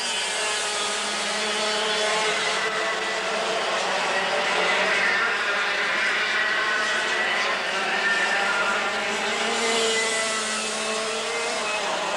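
Dirt karts racing around a track, a continuous droning engine whine that swells and fades slightly as they pass, heard at a moderate distance.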